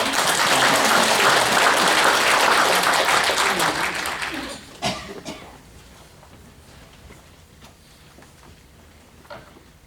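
A church congregation applauds loudly with dense clapping that fades out over several seconds, leaving a few scattered claps and quiet room noise.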